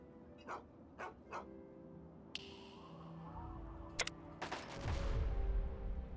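The Fallout companion dog barks three times in a quick row, then harsher bursts and rumbling game noise build up, with a few sharp cracks like distant gunfire toward the end.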